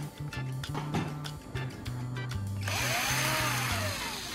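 A power drill whirs in short bursts, then runs in a sustained higher-pitched grind, close and loud, widening a hole in the top of a plastic lighter.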